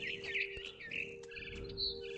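A frightened bird in What Remains of Edith Finch chirps and tweets in short bright bursts over a steady low hum, close and fairly quiet, with no talking.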